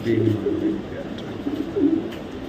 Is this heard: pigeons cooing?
yes